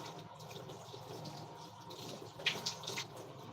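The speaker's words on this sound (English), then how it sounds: "I'm washing dishes." Water runs and splashes at a kitchen sink while dishes are washed, a steady soft wash of flow with a few brighter splashes and clinks near the end, heard alone at low volume.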